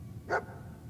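A single short dog bark from the dog companion in the Fallout 4 video game, one sharp mid-distance yelp over a quiet low background hum.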